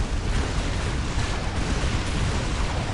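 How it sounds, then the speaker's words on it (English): A Manticore missile barrage in the Dawn of War strategy game makes a dense, continuous roar of overlapping explosions that stays loud and steady throughout. "just narrowly avoiding that Manticore missile barrage there"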